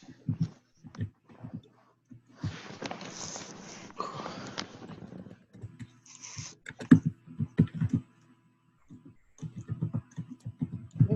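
Typing on a computer keyboard during an online team meeting, irregular bursts of close, quick key clicks with pauses between, mixed with sniffs and breathy noises near the microphone.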